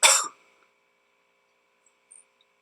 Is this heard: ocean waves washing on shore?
no